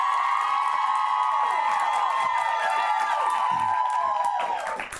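A studio audience at a live South African talk show cheers, whoops and applauds loudly and steadily, a dense sustained crowd roar with shouts on top that swells briefly before easing off.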